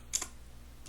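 Keys on a computer keyboard tapped a few times, quick light clicks close by in a quiet room, with a short pause before a final click.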